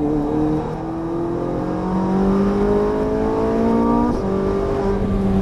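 A Ferrari 458 Italia V8 accelerates hard out of a corner on a Las Vegas track, heard from inside as a loud, rising engine note that climbs through the revs, with a quick shift partway through.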